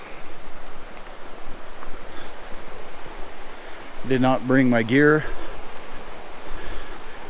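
Continuous broadband rush of a flowing creek at Jones Hole, Dinosaur National Monument, Utah, fills the scene, steady and close, with someone speaking briefly over it.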